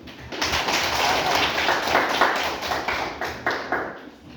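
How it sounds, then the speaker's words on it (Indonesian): A school class claps hands for a group's presentation in a classroom lesson, a burst of clapping with sharp, uneven claps that thins out toward the end. "Tepuk tangan dulu"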